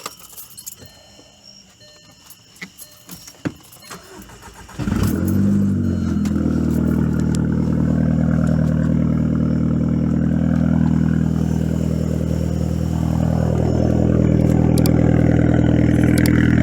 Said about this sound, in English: All right, let's go ahead and give her a start.